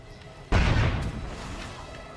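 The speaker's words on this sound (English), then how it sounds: "Pipe bomb going in. Other pipe bomb going in." A pipe bomb explodes in a video game with one sudden, deep boom that peaks sharply and fades into a lingering rumble, loud and close, with no talk over it.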